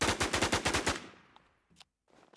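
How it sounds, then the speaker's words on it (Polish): Automatic gunfire from an IWO rifle with attachments in the survival shooter Infestation: The New Z: a rapid, loud burst of about nine shots lasting one second, followed by a decaying tail and a few faint later sounds. "Ja sobie postrzelam z tego Iwo chwilę"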